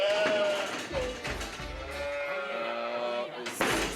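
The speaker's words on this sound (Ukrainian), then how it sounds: "Это, как я говорю, черноголовые овцы." Lithuanian black-headed sheep, a native breed kept in a small flock on a farm in Lithuania, bleat close by in several wavering cries, with some talking mixed in.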